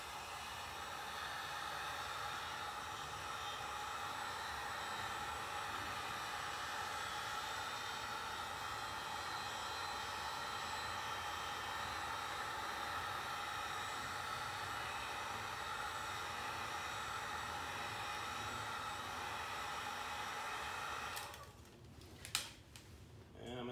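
A heat gun blowing hot air onto adhesive badge tape on a car during an M4 badge install, a steady loud broadband roar running close and continuous for about twenty seconds before cutting off.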